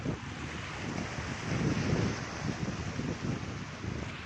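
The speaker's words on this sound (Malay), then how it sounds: "Inilah pantai kami Tanjung Umar pagi hari sejuk tak ada orang." Morning at Tanjung Umar beach in Batam, deserted and cool with a low tide starting to rise: faint, steady surf and wind wash evenly with a gentle swell in the middle, no voices.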